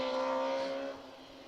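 A rally car runs through a Kielder Forest Rally stage, its engine drone holding a steady pitch and then fading quickly as it moves away.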